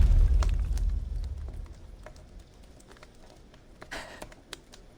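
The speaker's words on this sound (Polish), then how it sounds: "Śmietnik wybuchł." A trash can explodes in a video game: a heavy, booming blast at the start rumbles and fades, followed by scattered crackles and a sharp burst of debris a few seconds later.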